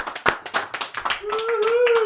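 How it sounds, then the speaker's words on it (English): Hand clapping during a live motor-racing watch-along stream, a quick scattered burst of claps from a small group, with a voice speaking and a sustained tone rising underneath toward the end. "So round of applause to you."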